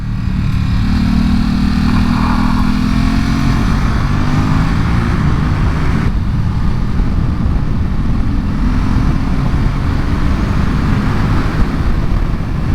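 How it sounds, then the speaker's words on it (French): A 2023 Ducati SuperSport 950 S motorcycle engine drones loudly and steadily while accelerating through a curve, with heavy wind rush throughout and no talking. "on se positionne, on monte le pied de gaz, c'est, ah là là, un régal"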